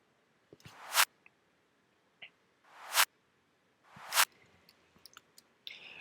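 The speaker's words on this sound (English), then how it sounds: "the next and last sample in this section is this reversed clap" A reversed clap sample in a chillout music production plays three times, each hit swelling from silence into a sharp, bright cut-off, with faint clicks scattered between them; the sample is quiet and plays alone.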